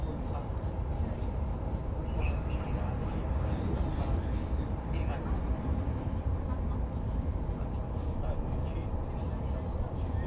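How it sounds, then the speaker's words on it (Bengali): Steady low rumble of a moving train along a coastal line on a cloudy day near Sydney, continuous and broadband throughout, with faint voices mixed into the ride noise. "আমাদের ট্রেন জার্নি এখান থেকে শুরু হয়ে গেল।"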